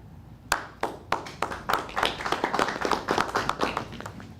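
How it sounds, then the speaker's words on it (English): A small group claps hands indoors: a few separate early claps quickly swell into a steady burst of applause that stays close and fairly loud throughout. "Let's clap when Carmen comes in to make her embarrassed"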